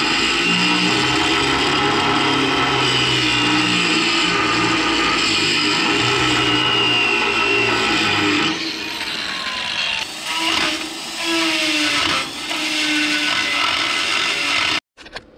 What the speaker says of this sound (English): I'm gonna take a grinder and I'll just back gouge that to the weld I just did